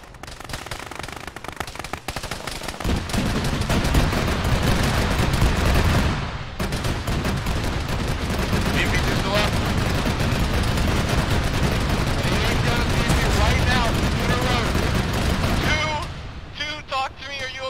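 A military video game battle with dense, continuous machine-gun fire and explosions as an anti-tank shot destroys a BMP, loud and sustained, with radio-style voices talking over the gunfire.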